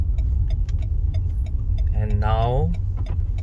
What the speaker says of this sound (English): Car coming in, we gotta give the car some way